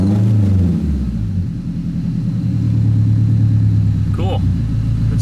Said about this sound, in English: That seems to fix it. It's idling perfect.